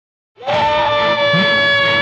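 A man jolts awake and lets out a long, loud, piercing scream in an Indian action film scene, the cry starting abruptly after a short silence and holding steady to the end.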